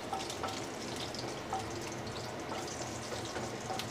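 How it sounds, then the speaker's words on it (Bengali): Dried red chilli and whole cumin tempering in hot oil, a steady close sizzle and crackle running throughout with small pops, no voices. "30 সেকেন্ডস মতো ফোড়নটাকে একটু ফ্রাই করে নেব।"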